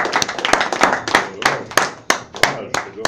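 Audience at a public debate on the sovereign money initiative in Lausanne applauding, with sharp, distinct hand claps in an irregular rhythm, close and fairly loud, the clapping crowd apparently small.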